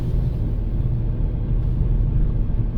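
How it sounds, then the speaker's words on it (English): A heavy tractor engine rumbles steadily close by as it arrives on a service station forecourt, a deep continuous drone that holds level throughout without pause. "another tractor arriving on the forecourt"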